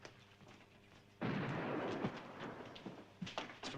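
Cannon fire rolls across a moor near a pond in a Hound of the Baskervilles film: a sudden loud boom breaks a quiet scene and trails off into a long, rumbling echo.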